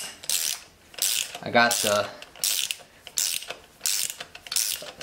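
A socket wrench ratchets while spark plugs are pulled from a Speed6, giving repeated bursts of quick clicking about every second, close and crisp, with someone speaking briefly between strokes.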